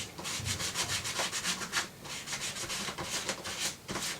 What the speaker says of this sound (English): I'm gonna scuff this up